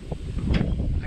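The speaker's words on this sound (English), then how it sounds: "sorry about the wind" Wind blows outdoors by ponds while scouting for ducks and geese, a brief, rough low rumble buffeting the microphone and rising in gusts.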